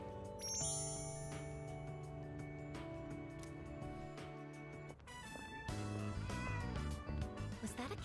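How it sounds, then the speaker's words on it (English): A cat in the video game Persona 3 Reload lets out a meow over tinkling game music, which shifts partway through. "Was that a cat's meow?"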